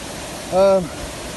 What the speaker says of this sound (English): There's running water everywhere.